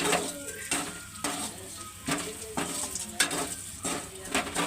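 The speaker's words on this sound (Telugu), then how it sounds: "గరగర తిప్పటమే, ఉప్పు కారం పట్టేలాగా" A spoon stirs curry with black chillies, salt and chilli powder in a frying pan, scraping in steady, repeated strokes about every second over a continuous close sizzle.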